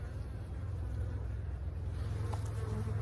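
Honey bees buzzing steadily and densely from an opened hive during spring brood-nest inspection, a close continuous hum with no talk.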